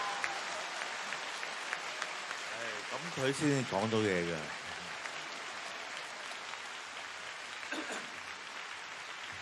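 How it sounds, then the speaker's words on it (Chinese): An audience applauds at a live concert, with a continuous wash of clapping throughout and a voice briefly speaking over it midway. "拍拍手掌。"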